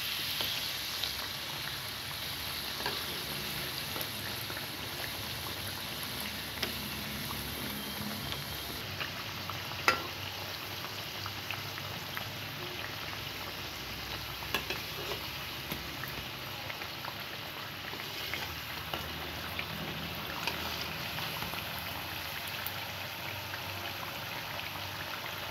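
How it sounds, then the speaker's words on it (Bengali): Nimki pastries deep-frying in oil until brown give a faint, even bubbling sizzle that holds steady the whole time, with only a single soft clink partway through. "সবগুলো বাদামি কালার করে ভাজি করে নিতে হবে।"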